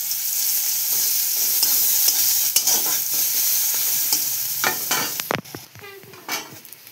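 Chopped onions frying in hot oil on a pan for egg curry, a loud continuous sizzle with stirring scrapes, then sharper clatters of the spatula near the end, close and with no speech.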